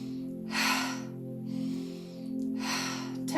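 Breathing during a yoga posture routine, with two clear breathy exhales about two seconds apart and a softer breath between them, heard close over a steady low hum.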